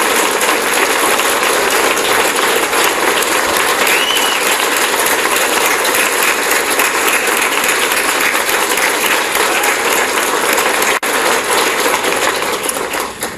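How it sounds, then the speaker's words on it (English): Standing ovation for Governor Scott Walker at a public event: loud, sustained, dense crowd applause with cheering, holding steady throughout before tapering slightly at the end. "Would you all mind getting on your feet and giving a rousing round of applause to Governor Scott Walker"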